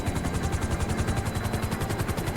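A helicopter in the video game GTA V gives off a steady, loud, rapid rotor thump, pulsing evenly without a break above a heavy engine drone.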